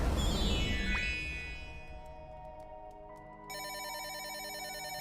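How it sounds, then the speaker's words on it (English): A telephone rings in the dating-sim horror video game Sucker for Love: Crush Landing, an electronic ring pattern that starts suddenly after a fading tone and repeats steadily, loud and alone. "Phone's ringing."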